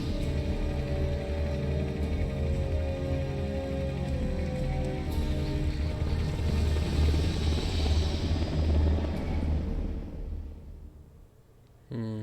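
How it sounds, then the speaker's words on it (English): Russian Hind gunship helicopter in a video game, a loud steady rotor rumble and engine drone that holds for about ten seconds, then fades sharply before a brief return. "what's a Russian gunship doing here?"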